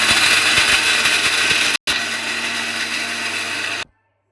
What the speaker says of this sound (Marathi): आता आपण हे मिक्सरला बारीक करून घेऊया.